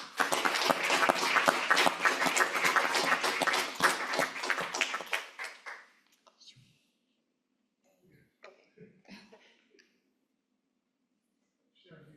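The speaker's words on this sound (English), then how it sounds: "please join me in a round of applause for our amazing educator, Mr. Roberts" Audience at a school district board meeting applauding an educator, a loud, dense round of clapping lasting several seconds before fading into a quiet room with scattered coughs and shuffling.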